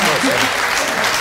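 A concert audience claps in dense, continuous applause, loud and close, with a voice faintly audible beneath it.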